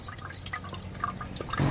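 Water drains and drips steadily from freshly washed ragi grains in a kitchen, a soft close trickle with scattered drops, growing briefly louder at the end.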